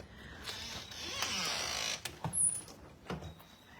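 A door in a suburban house opens with a drawn-out creak and some clicking latch and hinge noises. Several sharp knocks and clunks follow close by, with no talking.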